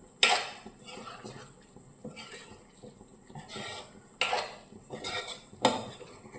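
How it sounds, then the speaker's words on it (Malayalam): A spoon scrapes and knocks against a heated pan while egg curry is stirred, with a few sharp clanks over quiet kitchen background and no clear talk. "ഇനി നമുക്ക് നന്നായിട്ട് ഒന്ന് ചൂടാക്കി ഇളക്കിയെടുക്കണം"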